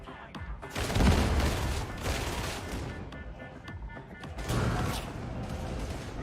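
Braced autogun fire in the Darktide game, a dense stream of rapid shots with bursts peaking around one second and again near four and a half seconds, mixed with mechanical clatter over a busy combat backdrop.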